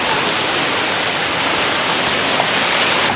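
Steady, loud rush of flowing water at a deep natural swimming spot with no entrance fee, a dense continuous roar that stays even throughout with no talking.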